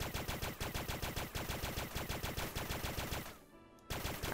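Rapid automatic gunfire in the video game Starbound, a loud, fast, evenly spaced stream of shots with a brief pause before the firing resumes.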